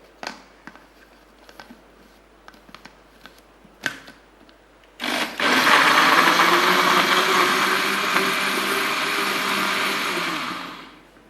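A kitchen blender mixes two cups of full fat milk, starting abruptly after a few faint taps and clicks, then running as a loud, steady whirring roar for about six seconds before cutting off.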